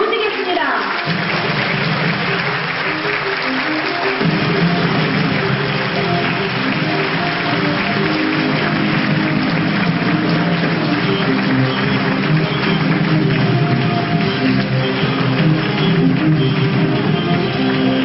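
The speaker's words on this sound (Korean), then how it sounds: "김태수 박사님을 무대 위로 모실 때 큰 박수 부탁드리겠습니다" An audience claps continuously in a hall as Dr. Kim Tae-su is welcomed to the stage at a network marketing event, the sustained applause mixed with stage music.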